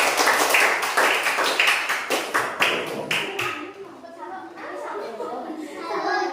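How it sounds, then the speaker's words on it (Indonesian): Students in a classroom clap for another group, a burst of close, uneven hand claps and taps over children's chatter, fading after about three seconds into murmuring. "kasih tepuk tangan dulu ya buat kelompok lain"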